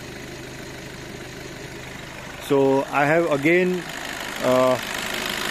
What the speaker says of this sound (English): I am raising the RPM of the engine till 2000 RPM